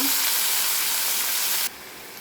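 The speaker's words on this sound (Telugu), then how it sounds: "అన్నీ వేసి బాగా ఫ్రై చేయాలి" Chopped onion, spinach and green chillies frying in a pan for spinach pickle, a loud continuous sizzle and hiss that cuts down sharply to a quieter simmer near the end.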